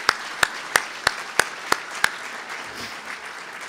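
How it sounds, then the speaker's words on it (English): A short run of about seven sharp, evenly spaced claps at a Missouri Valley Conference Hall of Fame ceremony, then a brief quieter stretch of room noise. "We want to thank all of those folks and give them a round of applause."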